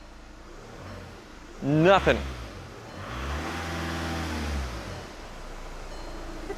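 A 2-liter TDI diesel engine in a cheap VW Jetta, a survivor of the Dieselgate scandal, revved once. The rising and falling engine note follows a short burst of nearby talk and idles back down afterward.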